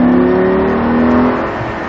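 A Lamborghini Gallardo accelerates on a racetrack, its engine giving a loud, close, sustained roar with steady tones that ease slightly toward the end.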